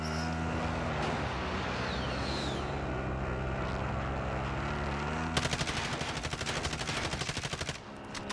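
Video game Warzone gunfire: a low vehicle rumble fills the first seconds, then rapid automatic machine-gun bursts rattle loudly and continuously to the end.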